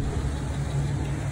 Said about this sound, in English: I did leave it running too, just so you can kind of hear the engine.